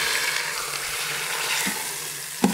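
Tri-tip searing in an Instant Pot gives a steady, close sizzling hiss that carries on throughout, with a brief knock right at the end and no talking.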